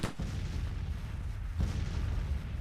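Civil War cannon artillery fire in the strategy game Grand Tactician, a dense continuous rumble of distant booms with a sharp blast at the start and another heavy report midway, no speech.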